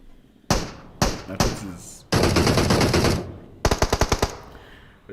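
Gunfire in a battle royale video game esports scrim: short bursts of shots, then a sustained automatic spray and a rapid string of loud single shots, close and punchy, with faint commentary underneath.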